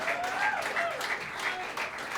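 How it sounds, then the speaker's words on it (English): At a live jazz concert in Maui, an audience applauds in a steady, moderately distant wash of clapping, with a few whistles or cheers rising above it. "How about a round of applause?"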